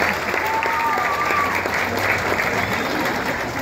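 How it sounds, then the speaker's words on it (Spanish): Sustained audience applause at a band festival in Berlin, El Salvador, dense steady clapping from a large crowd, fairly loud and even throughout with faint voices mixed in. "pido un fuerte aplauso desde acá hasta Los Ángeles"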